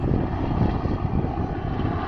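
A coastguard helicopter landing at a hospital landing zone in Blackpool gives a steady, loud rotor and engine roar that fills the whole stretch without a break.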